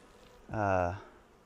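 Honey bees at a hive, a single bee buzzing close by in a brief swelling drone lasting about half a second over faint background.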